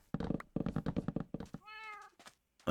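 A Minecraft cat meows once in a short, clear call after a stretch of other game sounds and thumps, with a loud knock-like hit at the very end.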